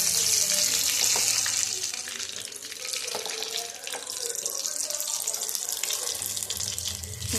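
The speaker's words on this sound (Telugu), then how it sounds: "కాల్చుకున్న కాసేపు కొంచెం మీడియం ఫ్లేమ్ వేసుకొని కాల్చేసుకోవాలి" Green chillies roasting over a medium gas flame, giving a steady, close hiss and sizzle with faint crackles that runs unbroken and without speech throughout.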